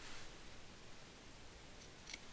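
Scissors snipping through cord or thread during dreamcatcher making, a quiet steady rustle ending in a brief sharp cut near the end.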